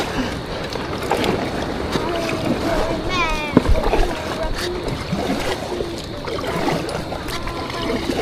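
A DIY styrofoam fishing kayak is paddled on the sea, with water sloshing and splashing against the hull under gusty wind buffeting the microphone and a few voices talking nearby.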